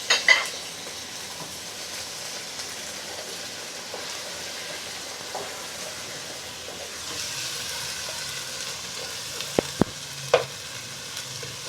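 Tomatoes frying and being stirred in a pan while cooking khepsa, a steady low sizzle with soft scraping and a few sharp utensil clinks near the end, no talking.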